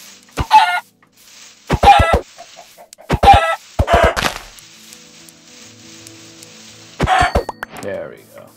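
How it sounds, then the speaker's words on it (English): A chicken in the video game Minecraft gives five short, sharp clucks, spaced about a second or more apart, with quiet stretches between them. "Let's get a chicken."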